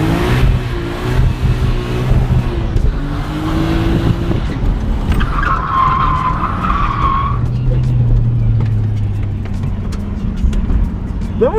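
A car drifting at a car event, its engine roaring loudly and steadily while the tires skid and screech continuously, with a sharper squeal rising partway through.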